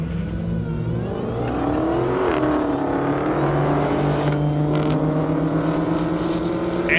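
A Dodge Challenger Hellcat and a 1,000-horsepower Toyota Supra roar down an airport drag strip, their engines revving loud and rising in pitch together over a steady crowd and track din.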